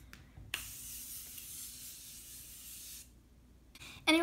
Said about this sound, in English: I'm taking the Morphe Prep and Set and spraying my whole face